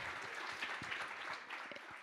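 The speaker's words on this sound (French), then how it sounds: "On vous applaudit encore." Audience applause at a French tech talk on Llama 2, a steady crackle of many hands clapping with some closer, heavier claps, moderately loud and unbroken by speech.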